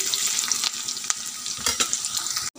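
Onions frying with cardamom, cinnamon and garam masala for an Assamese mutton curry give a close, steady sizzle broken by short scraping stirs, with a bright crackle across the whole clip.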